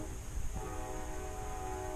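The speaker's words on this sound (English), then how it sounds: "Oh my gosh, that train." A train passes near a house during a furnace install, its horn sounding as a loud sustained tone with rumbling wheels and rail noise underneath throughout.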